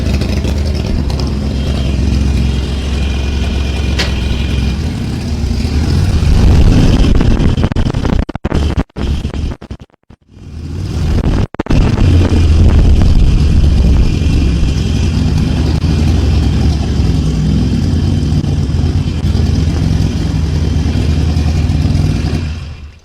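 A 2016 Harley-Davidson 883 motorcycle engine runs loud and close with a deep, steady rumble that briefly cuts out and stutters midway before catching again and carrying on strongly.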